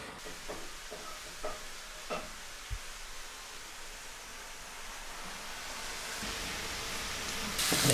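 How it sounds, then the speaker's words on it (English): Wild woodland mushrooms dry fry in a pan with a soft, steady sizzle. A few light clicks of stirring come early, and the frying grows slightly louder toward the end. No one speaks. "I'm going to dry fry these and put a little bit of a cream sauce with them to have on the side"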